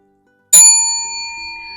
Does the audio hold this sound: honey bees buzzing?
no